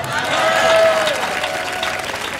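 Church congregation at a French-language prayer service clapping and acclaiming God, a loud sustained burst of applause with raised voices and cheers woven through it.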